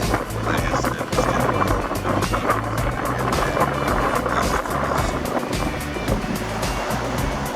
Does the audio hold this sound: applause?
no